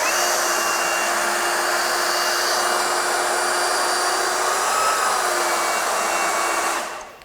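A DEWALT DCW220 20V XR cordless 3x21-inch belt sander runs steadily with no dust bag attached, a loud, continuous high whine with a faint tonal hum, cutting off abruptly at the very end.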